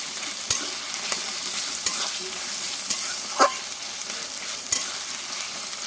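Chicken pieces being fried down in a pan for kosha, a steady close sizzle with occasional clinks and scrapes of a spoon stirring.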